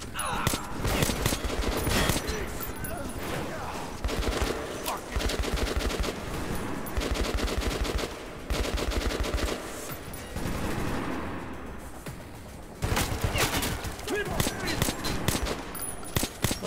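Continuous heavy gunfire in Metro 2033 Redux, dense automatic bursts and shots layered almost without pause over a chaotic battle, with talk mixed in.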